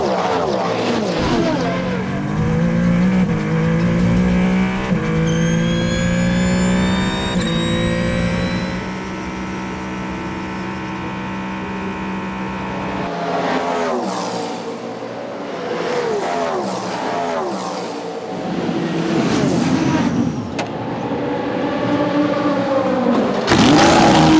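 Ferrari 499P prototype race cars battling for position at the 24 Hours of Le Mans, engines revving and surging past in a steady loud roar with shifting pitch, joined by crowd and commentary-like voices.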